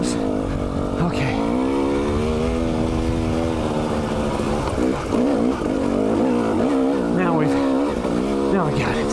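A 2019 KTM 300 TPI two-stroke dirt bike runs in second gear at high altitude, its engine note holding steady and close with a few brief throttle swells and dips midway.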